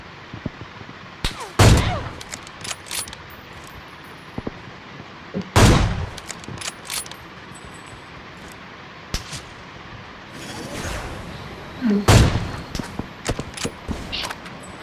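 Gunfire in a shooter video game, with several loud, sharp shots spaced seconds apart and smaller pops between them, over a steady noisy background.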